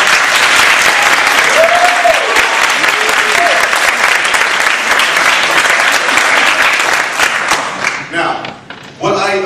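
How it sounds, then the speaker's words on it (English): Loud, sustained audience applause in a performance hall, dense clapping that thins out and fades near the end as a voice begins to speak. "A proper bow is the audience is applauding for you"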